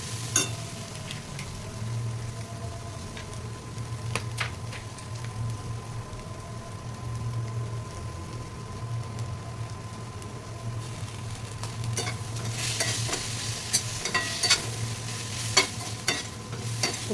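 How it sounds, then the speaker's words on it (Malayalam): Sauces being stirred into chicken noodles in a frying pan, a steady soft sizzle with scraping stir strokes that grow busier toward the end, heard alone without talk. "സോസ് എല്ലാം ഇട്ടിളക്കി സൂചിപ്പിച്ചിട്ടുണ്ട്"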